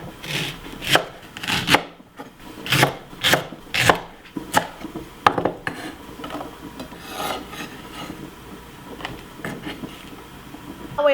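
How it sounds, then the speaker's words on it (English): A knife chops leek on a cutting board, striking in a quick, uneven series of close, crisp knocks with brief pauses between bursts. "Now let's cut the leek."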